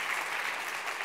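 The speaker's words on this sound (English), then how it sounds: "Let's have a big round of applause for Dave Malouf." Audience at a design conference applauds a speaker coming on stage, a dense continuous burst of clapping from many hands, steady and moderately loud throughout the short span.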